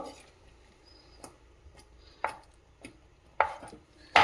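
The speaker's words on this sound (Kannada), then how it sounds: "ಇದನ್ನು ಚಾಕುದಲ್ಲಿ ಚಿಕ್ಕ ಪೀಸಾಗಿ ಕಟ್ ಮಾಡ್ಕೊಳ್ಬೇಕು" A knife chopping paneer into small pieces on a board, with sparse, irregular cuts: a few soft taps, then several sharper, louder chops near the end, close by and with no talk.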